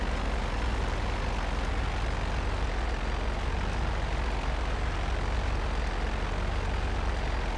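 Steady, loud airplane engine drone from GTA Online, a constant propeller-like roar that fills the whole stretch without pause and with no voices over it.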